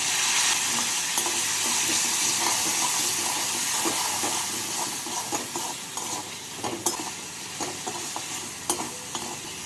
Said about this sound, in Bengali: স্বাদ মতো নুন অল্প হলুদ হাফ টিস্পুন লাল লঙ্কা গুঁড়ো অল্প জল দিয়ে মশলাগুলোকে ভেজে নিচ্ছি